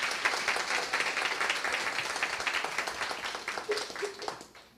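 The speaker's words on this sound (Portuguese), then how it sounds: "Uma salva de palmas." An audience at a round-table panel on migrant population health applauds in a steady wash of clapping that fills the clip and tapers slightly near the end, with faint voices underneath.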